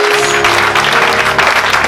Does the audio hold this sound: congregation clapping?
yes